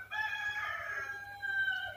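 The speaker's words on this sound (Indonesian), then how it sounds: "kalian dengar suara itu suara ayam ya" A rooster crows at night in one long drawn-out call lasting about two seconds, loud and close, with a steady low hum underneath.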